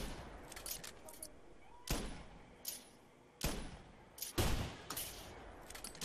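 Rifles fire in theHunter during a hunt for billy goats, with several sharp, loud gunshots spaced irregularly over a few seconds, some close together, each followed by a quick fading tail.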